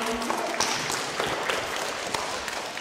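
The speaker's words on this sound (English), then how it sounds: "Round of applause, everyone." Applause from a small group, most likely schoolchildren, at a student Mass: light, scattered clapping that stays faint and fairly distant throughout.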